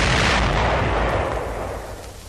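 A dozer demolition charge explodes against a wall in a 1944 wartime engineer armored vehicle demonstration, heard as a loud, deep, rumbling blast already under way that slowly fades.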